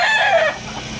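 A gamefowl rooster on a game farm in Tanauan City, Batangas, gives a single loud, close crow that rises and breaks off after about half a second, followed by faint background hum.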